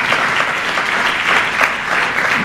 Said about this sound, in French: Je vous demanderai d'applaudir ces deux dames.